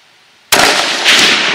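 A Savage Model 10 .223 rifle fires a single sharp, loud shot after a near-silent pause, followed by a brief echo and a faint second crack from the target downrange at 200 yards.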